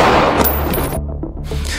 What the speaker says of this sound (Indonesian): Ia membuntuti El Jaguar dan menebaknya hingga tewas di tempat